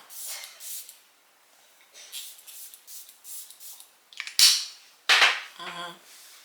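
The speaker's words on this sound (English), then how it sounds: "I'm about to spray some on now." Two sharp, hissing spray bursts close by, following a stretch of quiet rustling, with a brief voiced sound at the very end.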